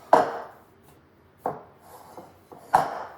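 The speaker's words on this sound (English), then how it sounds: "And now I'm gonna mix all this." Salted potato gnocchi dough being mixed by hand in a bowl: three distinct thumping, scraping strokes roughly a second apart, close and fairly loud with quiet gaps between.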